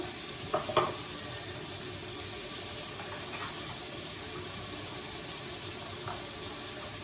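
Garlic paste hits a hot pan for beef curry and sizzles in a steady, moderate hiss, with a couple of brief clatters early on.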